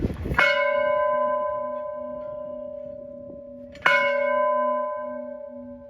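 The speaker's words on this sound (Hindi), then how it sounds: "जैसे कि एक घंटा बजने वाला है" Temple bell at a Yamuna ghat in Delhi, struck twice a few seconds apart, each strike a loud metallic clang followed by a long ringing, slowly decaying hum.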